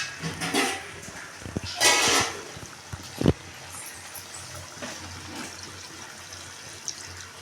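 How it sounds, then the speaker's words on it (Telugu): Water is poured from a container at home while getting ready to cook biryani, heard as a few short splashy gushes separated by quiet gaps and small clatters. "ముందైతే కొన్ని వాటర్ అయితే పోసుకుంటాను."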